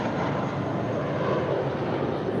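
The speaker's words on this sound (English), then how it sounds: "1463 off to San Jose del Cabo, 20-year-old A320." A twenty-year-old JetBlue Airbus A320 takes off at LAX, its engines a steady, distant broadband roar that holds at an even level with no voices over it.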